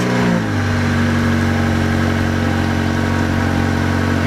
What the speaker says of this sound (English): you guys are gonna hear the startup of a 2016 Honda Civic